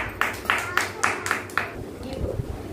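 Nursery children clap together in a classroom, a steady run of six sharp, evenly spaced claps near the mic, then a looser scatter of softer claps with faint room noise.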